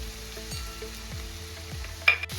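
Onion frying with curry leaves and garlic in a pan, a steady close sizzle with soft rhythmic scrapes of stirring at regular intervals and a brief sharper clatter near the end.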